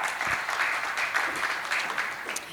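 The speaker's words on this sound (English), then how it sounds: "Ladies and gentlemen, another round of applause to Ms. Aanchal Gupta." Sustained crowd applause fills a conference hall for the day's last speaker, Ms. Aanchal Gupta, at the GLLC 2026 address: dense, steady clapping from many hands that holds level throughout, with no speech over it.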